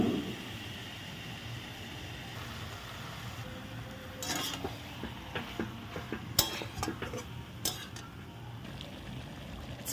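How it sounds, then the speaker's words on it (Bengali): Chicken for a red curry being sautéed in a pan over a lowered flame, with a steady low sizzle and occasional louder scrapes and clinks of a utensil stirring, no talking. "চিকেনটা যখন আমি কষাবো তখন ওভেনের ফ্লেমটা একটু কমিয়ে দেব।"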